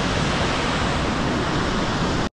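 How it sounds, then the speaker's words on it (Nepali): A waterfall on the Tilicho Lake trek in Nepal pours in a dense, unbroken roar of rushing water, loud and close, cutting off abruptly near the end with no voices. "फुङ झर्ना झरना होइन बुङ बुङ झरना"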